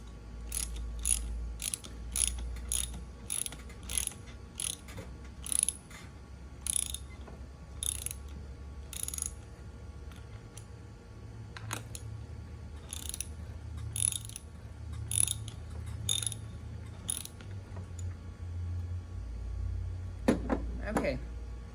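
Roller skate trucks being tightened by hand tool, giving a steady series of sharp metallic ratchet clicks in bursts, close and fairly quiet, with a low hum underneath.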